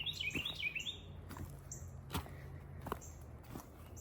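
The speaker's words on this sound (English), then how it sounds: "Gosh, I love listening to the birds." Small birds chirping outdoors in short high tweets and trills, with a few soft taps and rustles in a quiet background.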